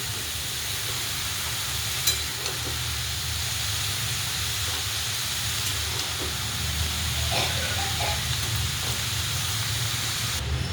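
Cabbage and lentils sizzle steadily in a hot pan while cabbage vegetable is cooked, a constant close hiss with faint clicks and stirring sounds, no talking.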